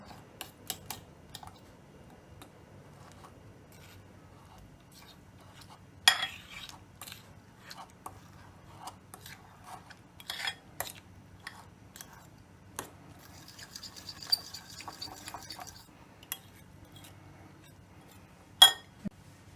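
Two small pieces of white cheese mashed in a bowl with a utensil, heard as sparse, faint clinks and scrapes of metal on the bowl at irregular intervals over a quiet low background hum, with no talking.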